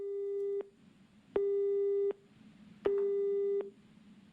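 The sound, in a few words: telephone busy signal after call cut off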